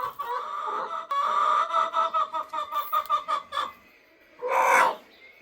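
Chickens in a hen house give a run of rhythmic, fairly close clucks for several seconds, then a short pause and one louder squawking burst near the end.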